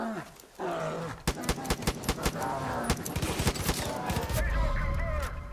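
Rapid bursts of gunfire aimed at a bear in Far Cry 5, a dense string of sharp shots over roughly four seconds with a low rumble underneath and a brief voice mixed in.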